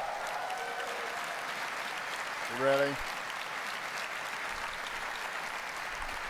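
Audience applause at an Apple keynote in 2018, a large crowd clapping steadily and continuously like a wash of sound, with a man's brief spoken remark rising over it midway.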